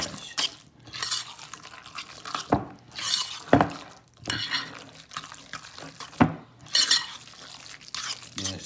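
A spoon stirs tuna in a bowl with boiled eggs, giving wet squelching and mushy scraping strokes in an uneven rhythm, close and moderately quiet, with a few sharper clicks where the spoon hits the bowl.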